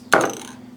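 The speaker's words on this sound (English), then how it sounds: "knocking over my spray can." A single sharp clatter of a metal spray can knocked over onto a surface, followed by a brief ringing decay.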